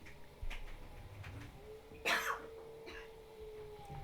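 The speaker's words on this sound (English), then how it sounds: "Sorry, I had to cough." A single sharp cough bursts out in a quiet room, preceded by a faint throat sound and followed by a low hum.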